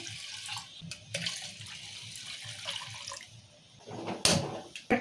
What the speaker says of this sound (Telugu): పప్పు సరిపడా నీళ్ళు పోసి పెట్టుకుందాము